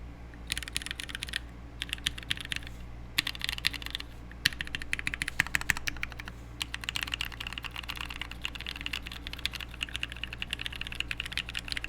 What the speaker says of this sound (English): we gotta do a typing test on this real quick